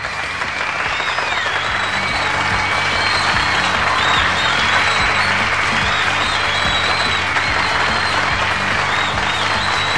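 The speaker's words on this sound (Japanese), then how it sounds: "はい、拍手。" A crowd applauds at a beach opening best-couple contest in the video game Hoshi Ori Yume Mirai, loud, continuous clapping that fills the whole stretch at an even level.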